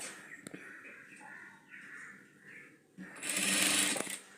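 A sewing machine stitches blouse fabric, with a steady mechanical whir through the first three seconds, then a louder, denser burst of fast stitching near the end.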